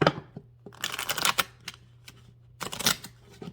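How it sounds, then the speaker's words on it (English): A tarot deck shuffled by hand in quick crisp riffling bursts, separated by short pauses over a faint steady low hum, with no voices. "I feel like I want to get one more shuffle."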